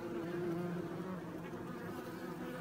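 Honey bees guard their hive entrance against yellow jacket wasps, a dense, steady buzzing of many insects close by, continuous and without pause, with no talking.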